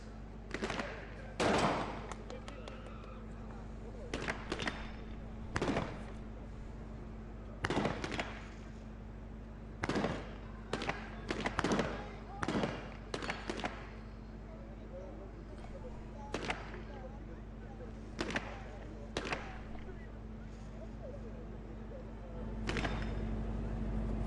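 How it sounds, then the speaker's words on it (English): MP5 submachine guns fire at a SWAT team challenge in sharp, separate bursts spread over about twenty seconds. The shots sound moderately distant, and a commentator talks between them. "The Colombians using MP5 submachine guns."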